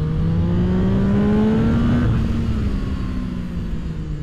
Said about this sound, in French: Ce 3 cylindres de 699 cm3 est bien monté en régime.